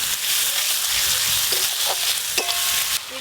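Chopped tomatoes go into a hot pan after ginger-garlic paste, setting off a loud, steady sizzle of frying with a few stirring knocks and scrapes, and no voices.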